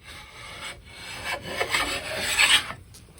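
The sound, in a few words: Veritas chisel plane cutting wood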